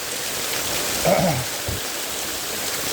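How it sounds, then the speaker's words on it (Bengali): Continuous rain falls steadily at a market during a long downpour, a dense even hiss with a brief soft bump partway through and no talking. "এই 48 ঘন্টা 50 ঘন্টা যে বৃষ্টির অনবরত হচ্ছে ভাই"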